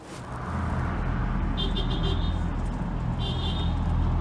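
A car drives along a road in Libya, heard from inside as a steady low road rumble and engine drone, with a few short high beeping tones partway through.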